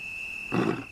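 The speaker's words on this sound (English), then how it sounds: "That thundering roar can travel up to 5 miles, announcing to his rivals that this territory is taken." A male lion lets out a single deep, loud roar partway through, rising suddenly from a quiet background with a thin steady whine and fading near the end.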